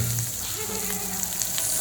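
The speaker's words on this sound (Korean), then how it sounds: "지글지글." Pork belly sizzles steadily in a hot pan at a barbecue dinner party, a dense continuous crackle of frying fat heard close and alone throughout.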